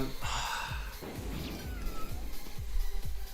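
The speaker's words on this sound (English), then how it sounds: "let's just kill one of these cats" Cat enemies in the video game Epic Battle Fantasy meow in a series of short, repeated cries over steady game music and effects, fairly loud and spaced at regular intervals.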